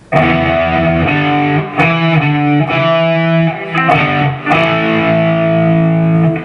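Heavily distorted electric guitar plays the chugging rhythm riff of a song, starting on low E, loud and close, with accented chord stabs and short pauses between phrases.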